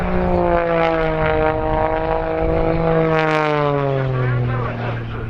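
An Extra aerobatic propeller plane flies past at the RAF Cosford Airshow, its engine droning loudly throughout and dropping in pitch as it passes, while a commentator talks over it.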